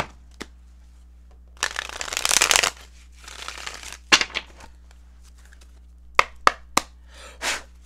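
A deck of tarot cards is shuffled up close: a loud riffling burst, softer rustles, then several crisp taps and knocks as cards are squared and placed, ending with a brief slide, no voices.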